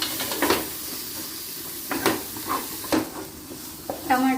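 Tomato frying in ginger-garlic paste in a pan for chicken fry, a steady soft sizzle broken by several sharp stirring scrapes, close and fairly loud with no talk.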